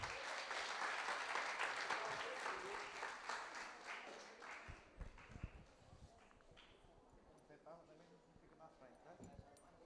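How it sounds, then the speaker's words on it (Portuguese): An audience claps in welcome at the opening of a cultural activities seminar for the 80th Festa do Vaqueiro, dense applause that thins out and fades after about five seconds into sparse scattered claps. "Vamos receber o Alexandre com uma salva de palmas."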